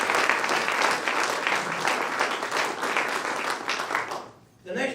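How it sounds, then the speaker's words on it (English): An audience at a food drive kick-off event applauds, a dense, loud, steady burst of clapping lasting several seconds before it quickly dies away. "Let's give that a round of applause."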